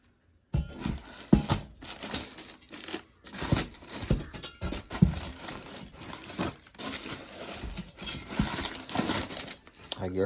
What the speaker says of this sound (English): I'm gonna open up the Corsa box and we're gonna see what's inside of that.